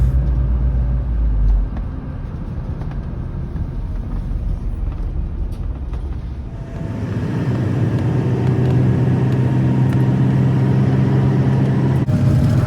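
A Megabus coach rumbles steadily along a road in Western New York, its low engine and road noise continuous throughout, growing somewhat louder and fuller partway through, with no voices.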